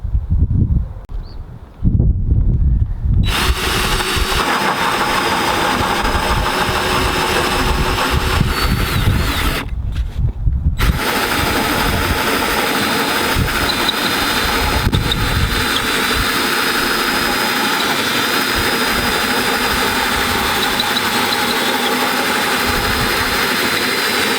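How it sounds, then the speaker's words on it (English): A power drill bores a hole through 4x8 plywood for a plyometric box, its motor whirring loud and steady for a long stretch after a few short starts, with brief pauses in between. "I just drilled the hole all the way through"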